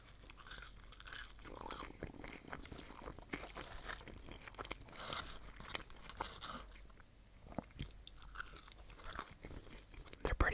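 McDonald's fries chewed close to the microphone, a quiet run of soft crunches and wet mastication in an uneven rhythm, with occasional brief louder bites and no talking.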